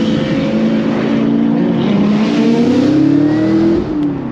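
Nissan GT-R cars rev hard on city streets, a loud sustained engine roar with rising pitch sweeps as the revs climb and then drop away near the end.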